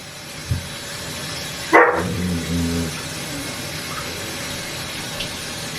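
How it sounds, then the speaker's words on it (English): A pet dog gives a single sharp bark followed by a short whining yelp indoors, then the room settles into quiet hum. "The dog barking."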